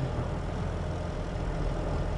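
A tractor engine in the video game Farming Simulator 22 drones steadily and low, holding an even, unbroken rumble from start to finish without any voices over it.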